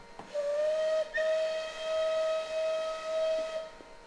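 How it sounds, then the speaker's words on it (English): A steam locomotive whistle from a Bulleid Light Pacific 4-6-2 in Train Simulator Classic blows as one long, steady, loud tone with a slight pitch step near the start, then cuts off after about three and a half seconds. "the spacebar whistle, which is what I just used there, is a loop"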